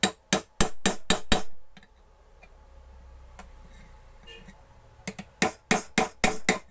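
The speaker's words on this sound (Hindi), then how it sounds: "आप दोस्तों इसको हल्का ठोक देंगे" Hammer tapping out the riveted strip of a mixer grinder motor during a bush replacement: sharp metallic taps in two quick rhythmic bursts of about six strikes each, separated by a quieter pause, close and loud with no talk.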